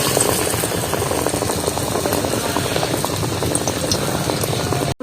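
Panta rice chops, coated in black sesame seeds, fry in hot oil with a dense, steady sizzle and bubbling that stays constant throughout.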